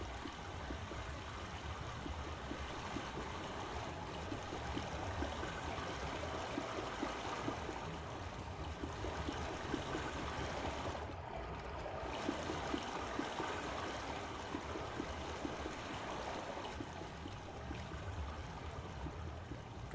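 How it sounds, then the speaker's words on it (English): Steady flowing water from the 2021 version of the Myst video game, a continuous, even rush and trickle like a stream that holds at one level throughout with no voices. "Water's flowing from here."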